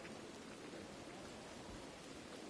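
Steady rain falls in a video game, a dense, even hiss of drops with no breaks and no voices.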